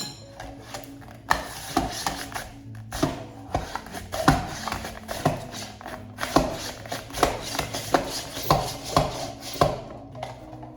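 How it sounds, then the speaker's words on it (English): Onion being cut into thin slices on a board, a run of sharp, evenly spaced knife thunks and crunches, moderately loud and close, with no speech over the cutting. "onion right on there, and then we're going to slice away."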